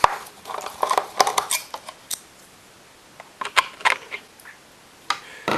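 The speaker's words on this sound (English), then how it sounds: "Now you can undo the screws on the plate." Small metallic clicks and taps come from screws being undone on the plate of a Technics 1210 MK2 turntable, irregular bursts close up with quiet gaps between them.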